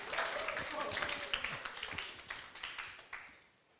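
A church congregation gives a short burst of applause during a sermon, a brief patter of scattered claps that thins out and fades over a few seconds amid faint voices.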